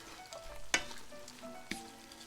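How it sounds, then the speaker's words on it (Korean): Anchovies and cut red pepper sizzle in a hot pan as they are stirred. Steady frying crackle runs throughout, with two sharp scraping clanks of the utensil against the pan. "여기다가 멸치 150g 하고요. 붉은 고추 자른 거 넣어줍니다. 넣어서 섞어줘요."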